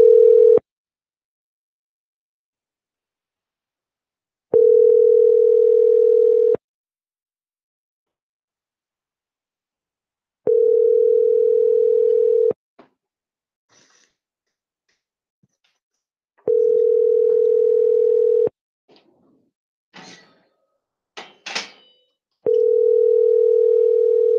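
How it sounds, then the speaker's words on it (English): A phone line tone from a Google Hangouts call plays as a steady, loud hum in regular two-second bursts with pauses between them, repeating about five times, and faint clicks fall in one gap. "It's hard to get Hangouts to dial sometimes."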